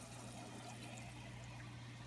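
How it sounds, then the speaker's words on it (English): Aquarium water is poured into a bag of fish water, a soft, steady trickling that is quiet and close, with a low constant hum underneath. "I'm going to add in some of my water to their water"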